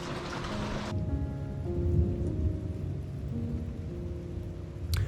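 Steady rain pours during work on installing traditional rain gutters around a house foundation, a dense broadband hiss with low rumbling beneath, continuous and fairly loud throughout, with a brief sharp burst near the end.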